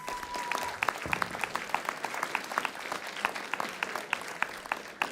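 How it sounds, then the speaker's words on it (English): An audience at the Northwest Regional Emmy Awards gives a round of applause, a dense, steady patter of many hands clapping at moderate distance, unbroken for several seconds. "Let's give them a round of applause."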